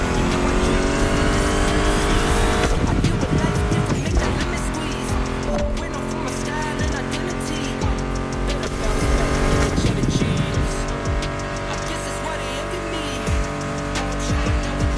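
Race cars roar and rev in the driving game The Crew Motorfest, with tires squealing and skidding over continuous engine noise and background music, loud and close throughout.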